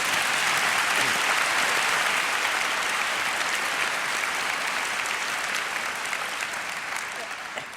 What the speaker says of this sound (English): a nice little clap for him would not come amiss